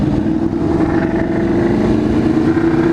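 A Ducati 959 motorcycle at a powersports bike night holds a loud, steady, throaty engine roar during a burnout, close by and alone.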